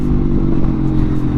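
A 2024 Aprilia RSV4 1100 Limited Edition superbike rides on a hot day in Santa Monica, California, its engine a loud, steady close-up drone over a brief moment with no talk.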